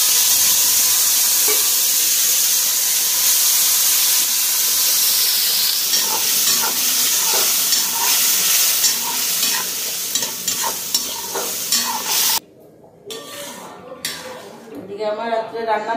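Small shrimp frying and being stirred in a pan with black cumin, mustard and green chili, a steady loud sizzle with repeated scraping clinks of utensil on metal, then quieter sizzling with louder clattering near the end.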